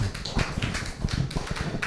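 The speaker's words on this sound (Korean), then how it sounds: "다시 한번 박수 부탁드립니다." Audience clapping after a talk at an academic seminar on the return of the Jigwang National Preceptor stupa from the Beopcheonsa temple site in Wonju, heard as a loose patter of hand claps, moderately loud and unaccompanied by speech.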